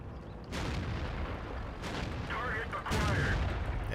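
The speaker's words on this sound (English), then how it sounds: "Artillery is coming down on us, so I'm going to keep moving" Heavy artillery fire in the tank battle game World of Tanks: deep, booming blasts land about every second, loud and rumbling, over continuous low engine and battle noise.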